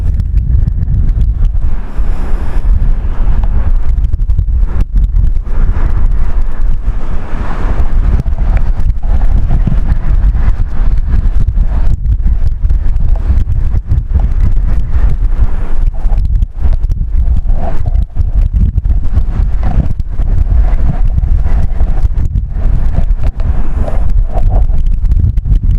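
Strong wind buffets the microphone continuously while an RV drives through cold, windy weather, a loud, steady low roar with gusty surges and no voices.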